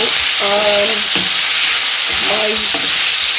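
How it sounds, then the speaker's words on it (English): Prawns sauté in a hot pan with a loud, continuous sizzling hiss close up, broken by two short clattering stirring passes, no speech. "prawns are almost ready. I'm just sauteing it."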